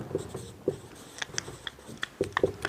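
Pen or chalk scratching out a formal charge on the second oxygen during a chemistry lesson, short irregular taps and strokes, close and clear with quiet pauses between.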